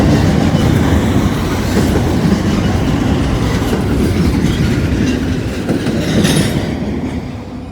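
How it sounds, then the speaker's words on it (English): A short priority intermodal freight train rolls steadily past close by, a loud continuous rumble of wheels and cars with faint clickety-clack and a brief squeal near the end, no voices. "that's the short priority intermodal"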